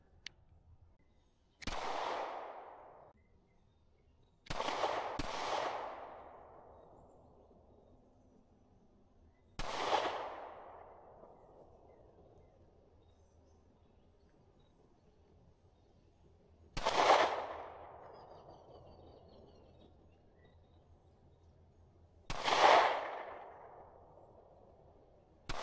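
Single gunshots from a G2C .40 S&W pistol, five sharp reports spaced a few seconds apart, each with a ringing decay outdoors, fairly loud and with no talk between them.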